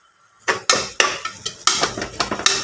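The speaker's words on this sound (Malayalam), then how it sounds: "ഇതൊന്ന് ഇളക്കിയെടുക്കട്ടോ" A spoon scrapes and knocks around a pan as a garam masala and spice-powder mixture is stirred for egg biryani, giving a quick run of close, sharp metallic clinks and scrapes after a brief quiet start.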